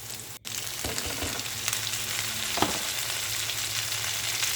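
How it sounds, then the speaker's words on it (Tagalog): Onion and tomato sauté in a hot pan for a bitter gourd dish, a continuous close sizzle and hiss with a few stirring scrapes and clicks, no voices. "Halo-halo lang po at pinagsama-sama ko na po siya hanggang sa lumambot yung kamati."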